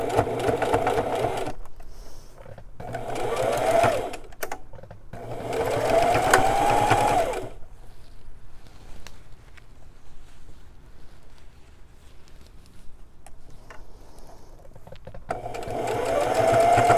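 A sewing machine stitches a hem on jeans in several whirring runs of a few seconds each, close and fairly loud, separated by quiet pauses with faint handling noises.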